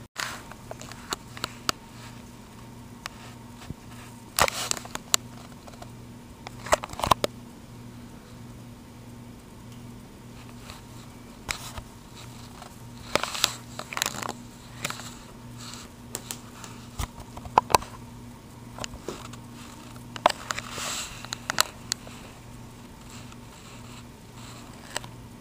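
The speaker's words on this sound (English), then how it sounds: "Pretty much been raining all day." Rain patters steadily through a long, quiet stretch of a rainy day, a soft continuous wash with scattered louder drips and taps and a low steady hum underneath, no voices.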